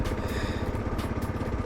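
A Kawasaki KLR650 single-cylinder motorcycle on its stock exhaust idles nearby with an even, quick thumping pulse, quiet and steady throughout.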